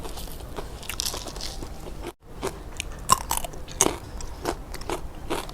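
Someone chews a crunchy Thai dish of bamboo shoots steamed with pork belly, with loud close crunching bites and wet chewing in an irregular rhythm, interrupted by a brief pause and no talking.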